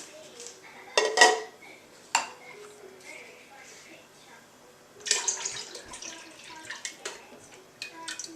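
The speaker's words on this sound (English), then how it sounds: "Next, you add your apple juice into a big pan." Apple juice pours into a large pan with a few clanks of metal cookware, soft splashing continuing in a busy kitchen.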